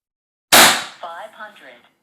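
A single sharp, loud shot from a Reximex Lieva .22 PCP air rifle cracks out close by and decays quickly, followed by brief indistinct talk.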